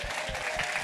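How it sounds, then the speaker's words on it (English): Audience applause for a judge at a live-streamed event, a steady dense wash of clapping heard up close throughout the short burst. "Let's give him a nice big round of applause."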